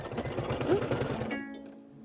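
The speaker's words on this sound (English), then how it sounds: "It's going to do the placement stitch for the cork pot." A Kimberbell embroidery machine runs a placement stitch for a cork flower pot, its needle pattering in a fast, even rhythm that stops abruptly partway through, leaving a faint motor hum.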